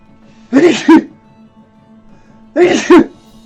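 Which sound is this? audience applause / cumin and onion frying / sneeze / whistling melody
sneeze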